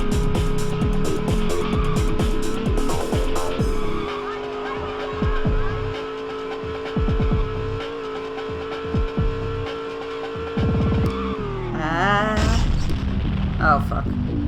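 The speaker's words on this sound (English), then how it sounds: "Did you see that person smash into me like that?" Cars collide in the racing video game Rush 2 as a sustained engine drone runs under booming impacts and skidding tire squeals, ending in a swooping crash burst; a voice talks over it.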